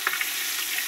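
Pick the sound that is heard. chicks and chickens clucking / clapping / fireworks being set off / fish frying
fish frying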